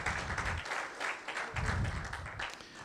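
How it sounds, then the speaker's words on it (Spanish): A church congregation claps and applauds during a Spanish-language worship service, a steady patter of many hands filling the room, swelling in two bursts and continuing without break. "Aplauda al Rey"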